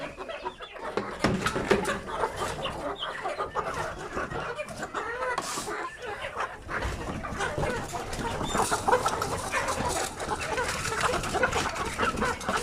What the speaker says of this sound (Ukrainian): У нас якісь кури дикі, вони зранку готові тебе з'їсти.